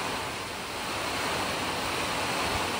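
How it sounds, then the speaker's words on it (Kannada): Strong wind roars steadily around areca palms at a home, a loud, broad continuous rush with no breaks, close to the microphone. "ಭಯಂಕರ ಗಾಳಿ."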